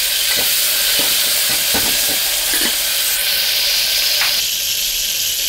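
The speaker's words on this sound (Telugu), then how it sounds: "ఇప్పుడు కట్ చేసిన టమాటో వేసుకోవాలి. ఇవన్నీ బాగా వేగాలండి" Cut tomatoes and vegetables frying in a pan, a loud, steady, close sizzle with bursts of hiss and a few soft stirring clicks, no voices.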